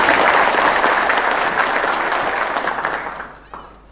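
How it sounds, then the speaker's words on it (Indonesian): Loud audience applause in a lecture hall at the TNI AU staff and command school, dense crowd clapping close and full for about three seconds before quickly dying away. "Tepuk tangan."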